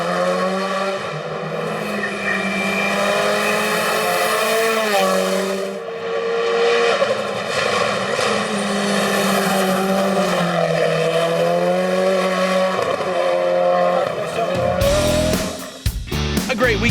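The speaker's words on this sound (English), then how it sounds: "His compatriot Daniel Stawiarski in his Mitsubishi Lancer Evo 4 drives a great race" A Mitsubishi Lancer Evo 4 race car at full throttle, its engine loud and sustained with rising and falling revs through gear changes, and a commentator talking over it.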